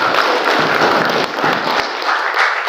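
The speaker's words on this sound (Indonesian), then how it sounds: "Tepuk tangan untuk tripartitnya." Close, loud applause breaks out among attendees at an Indonesian SPSI labour union gathering, dense clapping with a few dull thumps mixed in throughout.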